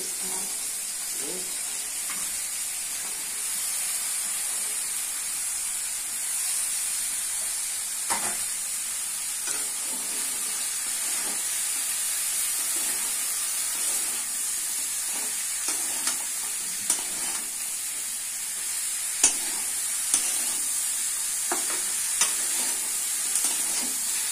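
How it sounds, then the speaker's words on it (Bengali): Vegetables, including small red potatoes, bitter gourd and eggplant, frying in a pan of cooked spiced masala, with a steady loud sizzle and occasional scraping stirs and clinks of a spatula. "মশলাটা কষা হয়ে গেছে, ছেড়ে দিচ্ছি, সবজিগুলো ছেড়ে দিচ্ছি।"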